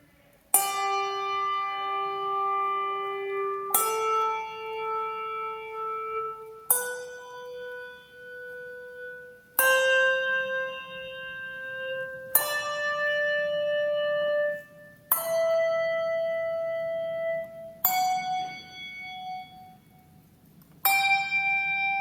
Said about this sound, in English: We've got a wide range from some lower bells all the way up to some higher bells.